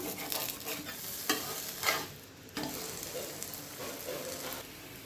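Leftover-rice adai frying in oil on a pan, a steady close sizzle and crackle with a few louder scraping bursts as it is turned over.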